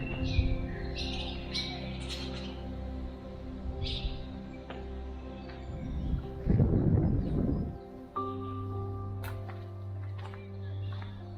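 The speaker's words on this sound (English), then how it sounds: "It's a nice playground for the birds as well." Birds call and chirp around the ruined stone abbey of Furness Abbey, scattered tweets and brief coos over a steady low hum, with a short rustling burst midway and faint talk in the background.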